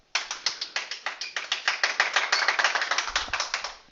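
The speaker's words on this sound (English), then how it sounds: "They actually clapped." A few students applaud in a classroom during a maths lesson on quadratic inequalities: a steady run of quick, crisp hand claps, close and fairly loud, with no talking.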